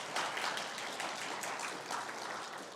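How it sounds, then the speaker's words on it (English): A meeting room audience at a paramedics college annual members' meeting clapping for council members being introduced, a fairly faint, steady patter of many hands applauding for a few seconds, with no speech. "Let's give them a round of applause"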